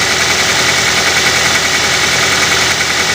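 A car engine idles steadily and loudly up close during a used-car inspection, a constant rough hum with a slight rhythmic knock and vibration throughout.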